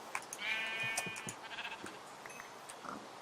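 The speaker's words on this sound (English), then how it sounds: "Come here, sheep." Sheep in a Minecraft-style video game let out a few short bleats, fairly close and clear, over a faint background hum with no one talking.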